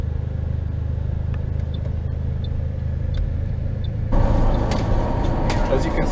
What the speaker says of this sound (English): As you can see, I'm on the bus